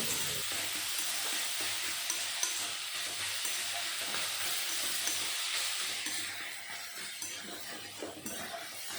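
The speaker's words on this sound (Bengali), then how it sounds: "এখন দিয়ে দেব ঘষে রাখা আলু আর গাজর। এখন ভালো করে সব কিছু মিশিয়ে নেব।" Grated potato and carrot sizzle in hot oil with fried onion as they are stirred in a pan, a continuous loud frying hiss with scraping stir strokes that eases slightly near the end.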